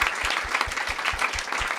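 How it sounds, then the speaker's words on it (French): Brief burst of steady applause from an audience of about 114 people, dense clapping, moderately loud and close. "il y a 114 personnes qui vont t'applaudir"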